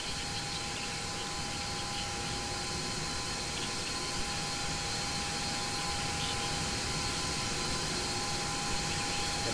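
Simulated Airbus A330 jet engines spooling up for taxi in X-Plane 11, a steady loud broadband roar with a sustained whine and tonal hum, continuous and unchanging throughout with no voices.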